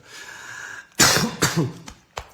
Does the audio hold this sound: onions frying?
no